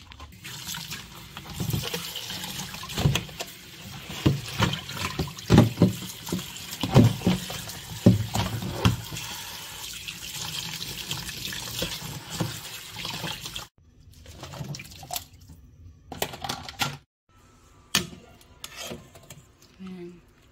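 Taro is washed under a running kitchen tap, with water splashing and pattering steadily up close, then quieter drips and clatters as the flow eases.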